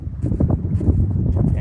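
Wind buffets a microphone outdoors on a rural property, a dense low rumbling roar with slight fluctuations and no speech.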